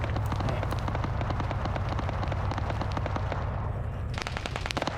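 Rapid automatic gunfire emptying a magazine in a tactical team shooter video game, a dense, loud, continuous stream of shots lasting the whole stretch and then briefly thinning near the end, no talking.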